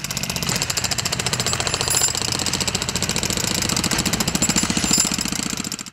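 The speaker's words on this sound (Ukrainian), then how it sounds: "Розділяють відбійним молотком та вантажать на тачку." A jackhammer breaks up debris on the roof of a former cadet corps building in Poltava during roof demolition, pounding in a rapid, steady, close-up rattle with brief surges and no talking.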